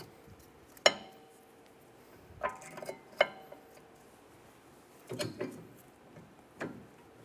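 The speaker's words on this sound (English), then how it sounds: "Install the pads." Rear brake pads going into the caliper bracket of a 2013-2017 Honda Accord, a series of sharp metallic clicks and clanks with quiet scraping between them, close and sparse.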